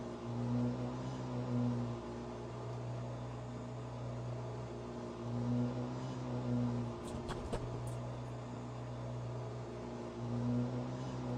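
Porsche 963 LMDh hypercar engine in the Rennsport racing game, a steady droning hum that swells and eases in long cycles, with a brief clattering burst partway through and no talking.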